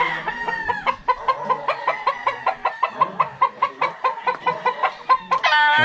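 A brood cock crows loudly at the start and end, with a rapid, rhythmic run of hen clucks from the breeding pen in between, close and clear.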